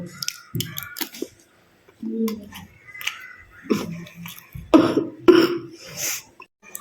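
Repeated close coughing from a person sick with a lingering cold, coming in several separate harsh bursts with short pauses between them and no talking.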